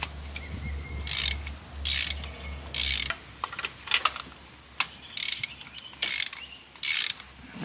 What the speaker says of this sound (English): Grab your 16 with the extension. Go ahead and just line these up and start breaking them loose.